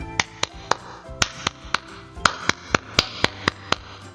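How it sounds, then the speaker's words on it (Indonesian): Sharp hand claps beat out the tepuk pramuka Scout rhythm, a dozen or so close, dry hits grouped into short runs and paired beats with brief pauses between phrases, with no talking over them. "Yuk kita tepuk pramuka bersama-sama."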